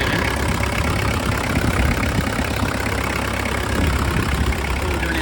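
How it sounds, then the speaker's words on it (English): A Range Rover Classic engine idles steadily with an even, continuous rumble and a slight knocking texture, close to the microphone, with no voices. "So there's the engine."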